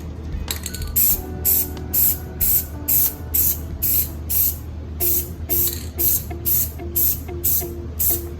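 Short bursts of aerosol spray paint coat the emblems and grille of a Hyundai Tucson, about a dozen close, loud hissing pulses in a steady rhythm with brief pauses between them.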